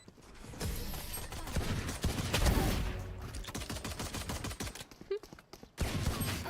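Gunfire in the Valorant video game, with a sustained stretch of loud, dense weapon fire followed by sharp single shots and clicks, up close and dominant.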